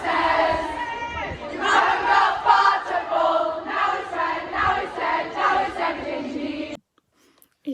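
A crowd at a Tommyinnit live show in Cardiff sings songs together, many voices chanting a melody in loud rhythmic phrases before cutting off abruptly.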